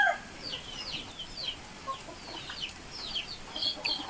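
Chickens on a rural farm clucking softly at a distance, several short calls scattered over steady background noise, with no talk.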